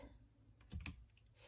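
A pair of soft, quick clicks from a computer mouse as an image is saved, close and faint against a quiet room, with a few lighter ticks afterward and no talk.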